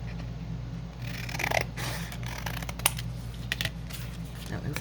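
Scissors snip through paper journaling cards close by, giving several short crisp cuts scattered over a low steady background hum, with a voice speaking briefly.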